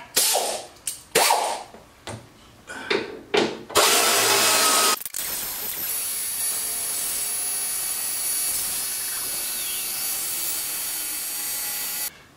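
A power tool removes long body bolts on a 2016 Harley Tri Glide Ultra, starting with several short loud bursts of whirring and rattling, then running continuously in one long, steady, close whine.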